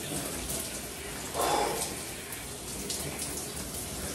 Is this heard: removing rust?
no